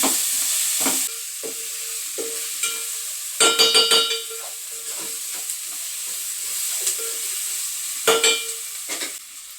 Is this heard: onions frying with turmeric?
yes